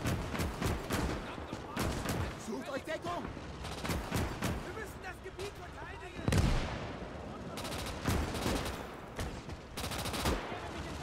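Gunfire in the World War II game Call to Arms - Gates of Hell: Ostfront, bursts of machine-gun and rifle shots crackling continuously with a heavier blast midway, moderately distant, with a voice talking over it.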